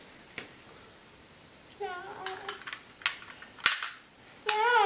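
Toy cap gun firing a few sharp, close snaps amid a child's babbling and an adult voice talking nearby.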